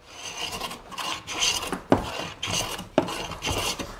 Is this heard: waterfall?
no